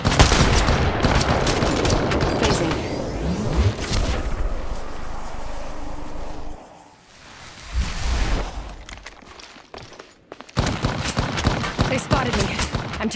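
Rapid gunfire from the mobile shooter Apex Legends Mobile, dense bursts of shots filling most of the stretch, a brief lull in the middle, then loud firing again, mixed with game effects.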